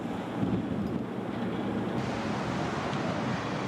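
Strong wind and breaking waves on the Ushant coast of Brittany, where the tug Abeille Bourbon lies at anchor, make a steady, loud, close roar of gusting air and surf with no break and no voices.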